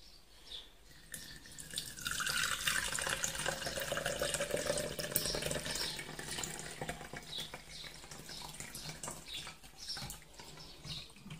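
Homemade rose water being strained through a cloth into a container, with steady trickling and splashing liquid that swells and runs on for several seconds, close and moderately quiet, with no speech.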